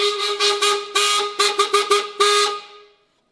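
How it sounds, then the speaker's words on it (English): The horn on a widebody Honda Civic, a thin, nasal Balinese-style horn, honks close and loud in a quick irregular series of about a dozen short toots before falling silent. "Really a Balinese horn."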